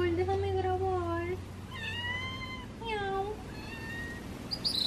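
A cat meows several times over about five seconds, the rising and falling calls close and fairly clear, spaced out with short gaps, while a low steady hum runs underneath in an indoor setting.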